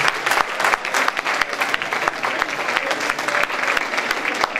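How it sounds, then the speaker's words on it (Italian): An audience at a school conference applauding, dense continuous clapping from many hands in a hall, loud and sustained from start to finish. "facciamo un altro applauso"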